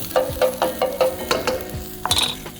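Leftover fried rice with chili stirred in a hot pan, the spatula scraping in a steady rhythm of about ten strokes over a continuous close sizzle.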